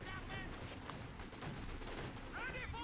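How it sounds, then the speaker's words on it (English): Suppressive artillery barrage in a WWII strategy game, heard as a continuous rattle of gunfire and bursting shells, moderately loud, with overlapping battlefield noise throughout. "And there's a suppressive barrage."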